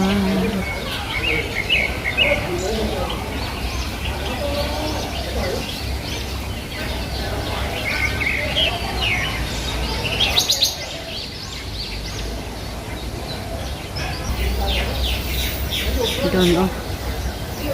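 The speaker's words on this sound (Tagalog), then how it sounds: "Mga iba't ibang ibon." Various birds chirp and call continuously inside the Pagoda Aviary at Yuen Long Park, Hong Kong, a busy layered chorus of tweets near and far, while people talk in the background.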